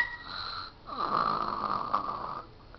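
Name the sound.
loud snoring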